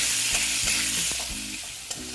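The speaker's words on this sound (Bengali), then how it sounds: "আলুটা আমি ভেজে নেব ভালো মতন ভাজতে হবে" Potato pieces coated with salt and turmeric fry in a pan for a bitter gourd and potato dish, giving a brief, loud, steady sizzle with a few soft stirring scrapes up close.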